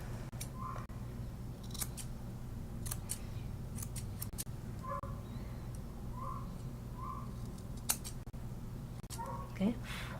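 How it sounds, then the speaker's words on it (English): Curved grooming scissors trim a shih tzu's coat in a series of quick, crisp snips, some in rapid pairs, sounding close over a low steady background hum. "I have to be conscious and turn my scissors this way so the curve works on this side."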